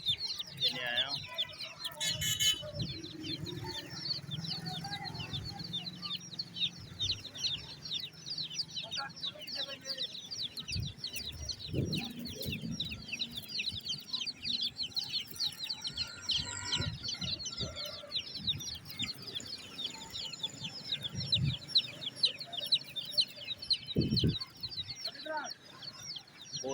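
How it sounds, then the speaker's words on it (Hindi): Many colorful chicks cheep continuously in dense, high-pitched overlapping calls at a bird market on College Road in Rawalpindi, with occasional clucks, handling noises and voices in the background. "बहुत ही प्यारे कलरफुल चूजे हैं ये।"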